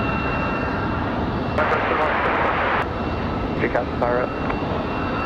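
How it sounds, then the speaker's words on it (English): A United airliner touches down on runway 5 right at Raleigh-Durham International in windy conditions, a steady roar of aircraft engine noise throughout with a brief louder surge midway, while a radio voice talks over it. "Nice smooth touchdown for United."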